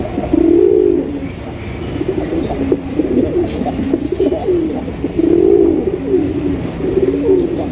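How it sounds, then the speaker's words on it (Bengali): A pair of Italian Owl pigeons coo close by in repeated soft, throaty rolling phrases with short gaps between calls, with no voices over them. "বাকবাকুম করে ডাকতেছে মাশাআল্লাহ।"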